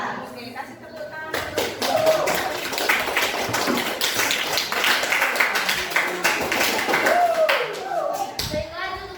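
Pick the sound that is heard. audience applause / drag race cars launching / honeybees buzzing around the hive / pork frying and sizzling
audience applause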